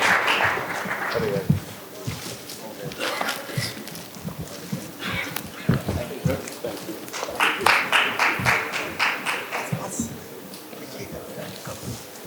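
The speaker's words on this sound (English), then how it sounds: "A huge round of applause for our distinguished guests." Applause from an audience at an infrastructure conference in Maharashtra, a sustained patter of many hands clapping in the room, rising and falling, with some voices mixed in.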